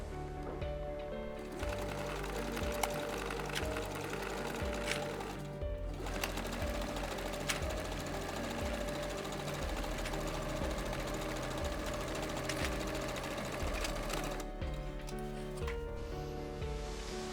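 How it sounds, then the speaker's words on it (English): A sewing machine runs steadily, stitching a single seam along the outer legs of small baby jeans. The motor hum and needle chatter are loud and close, with one brief pause partway through and no talk. "I will just simply sew the outer leg seams with one single seam"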